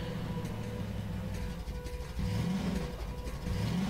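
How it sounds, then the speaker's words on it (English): Buggy engine running in Half-Life 2 Episode 13, a steady droning rumble with shifting revs that swells louder in the second half, no talk over it. "The sound for this car is pretty cool though."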